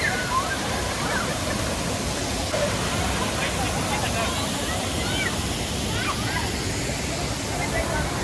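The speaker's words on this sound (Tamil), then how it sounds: "அந்த ஃபால்ஸ் பாருங்க, தண்ணி செம்ம ஃபோர்ஸாக வருதுங்க." A powerful waterfall on a Kerala outing, water thundering down in a loud, continuous, dense roar that fills the whole scene without letup, with faint voices of people nearby mixed into the rush.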